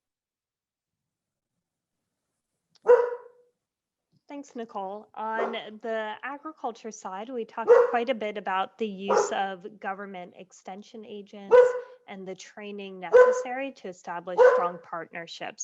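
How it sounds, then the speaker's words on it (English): A puppy barks and yips intermittently in the background of an indoor room while a person speaks steadily over it, the dog sounds fainter than the voice. "Sorry, my puppy has a lot to say about this one, so sorry for the noise in the background."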